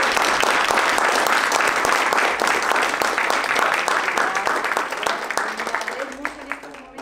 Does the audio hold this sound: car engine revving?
no